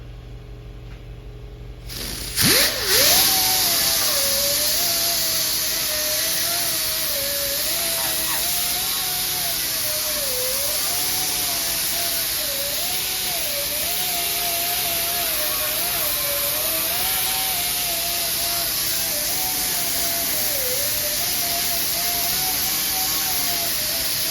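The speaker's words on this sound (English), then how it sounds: "I use these a lot with this air grinder for door jams and stuff." A loud, continuous high-pitched whine of an air grinder stripping paint from a car body edge to bare metal, its pitch wavering slightly as pressure changes, after a short burst at the start.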